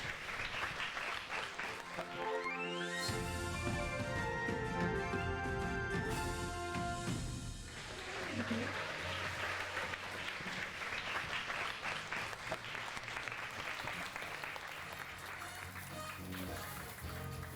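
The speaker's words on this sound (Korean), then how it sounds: "그 박수 부탁드립니다." Loud, sustained applause from an audience fills the room, steady clapping that continues throughout with a slight swell partway through.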